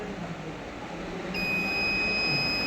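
A multimeter set to its continuity beep range gives a steady electronic tone while probing a boost coil, starting partway through and holding over faint room noise.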